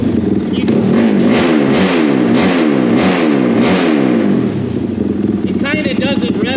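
A Honda 450R engine on its stock map revs up and down in quick repeated surges, loud and close. A brief voice comes in near the end.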